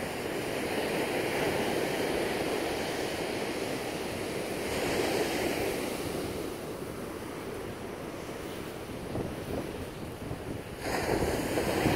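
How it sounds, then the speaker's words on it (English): Big ocean waves roll in off open water on the East Coast, a loud continuous surf roar with swelling surges and wind buffeting the microphone, and no talk. "Like the big waves coming in right off the open water."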